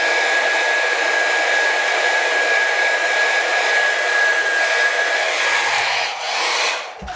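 A hair dryer used as a heat tool to warm vinyl runs as a steady, loud, close whine with a thin constant tone, then briefly dips near the end.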